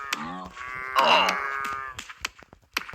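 Cows in the Multicraft video game let out a loud, wailing moo with harmonic tones that swells and fades, followed by sharp clicks and thuds of in-game hits, with no talking.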